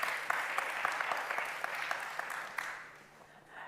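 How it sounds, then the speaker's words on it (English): A summit audience applauds two guests on stage, with a brisk patter of many hands and some sharp individual claps that thin out and fade near the end. "Let's give them a round of applause,"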